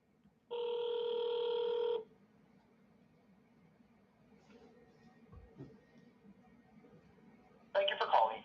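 A Comdial Interchange voicemail system is dialed into over a phone line, with a loud steady tone followed by faint line hiss and soft handling noise, then a burst of touch-tone dialing.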